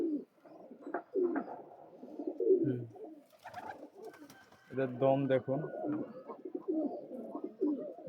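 Soft, rolling coos from home-kept flying pigeons, Madrasi pairs, repeat near at hand in short bursts, mixed with a man's brief speech.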